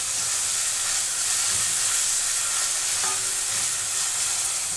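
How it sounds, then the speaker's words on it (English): Onions sizzle and fry with salt in a hot pan, a steady close hiss of frying that runs unbroken with faint stirring scrapes and no talking. "I'm frying the onions."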